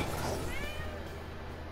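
A cat meowing in Final Fantasy XV, a short close meow heard over the game's background sound with players talking.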